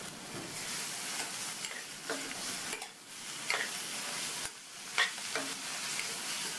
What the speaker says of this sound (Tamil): ஒரு கைப்பிடி அளவு ஃப்ரெஷ்ஷான கொத்தமல்லி இலையை சேர்த்துட்டு நல்லா ஒரு பரட்டி விட்டுறலாம்.